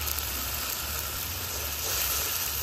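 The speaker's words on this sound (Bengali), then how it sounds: "মশলাটা ভালোভাবে কষিয়ে নিই" Ground spices (cumin paste, chili, turmeric, coriander powder and salt) frying in oil after green chilies, a steady close sizzle with constant hiss and no pauses.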